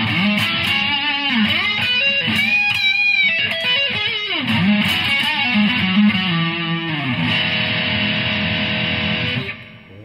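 A Burny Les Paul Custom electric guitar on its front pickup plays distorted riffs and sustained notes, loud and continuous, closing with a long ringing chord that cuts off at the end.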